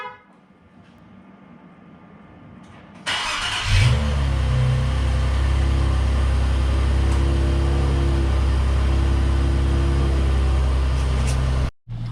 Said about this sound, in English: So without further ado, I'll give you a quick cold start.